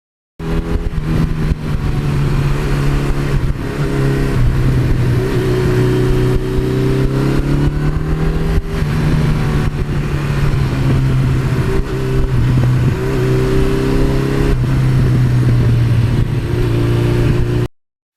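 A 1982 Suzuki GS1100E motorcycle engine running loud and close, a steady throbbing note that rises and falls with repeated revving for the whole stretch, no voices.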